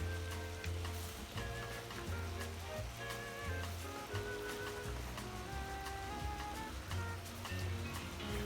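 Vegetables for an Antiguan pepperpot hiss and sizzle steadily as they drop into a hot pot, a continuous crackling wash with soft background music running underneath.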